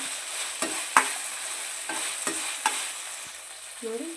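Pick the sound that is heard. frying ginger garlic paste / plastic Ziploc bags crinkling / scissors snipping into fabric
frying ginger garlic paste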